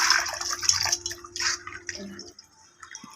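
Potatoes are washed by hand in water, with close splashing, dripping and sloshing in uneven bursts that fade toward quiet at the end.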